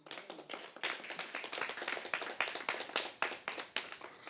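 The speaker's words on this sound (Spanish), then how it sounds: "Un aplauso a ustedes mismos" A small group of volunteers at a prayer gathering claps for themselves: quiet, fairly close, distinct hand claps in an uneven rhythm from a few people, with no talk over them.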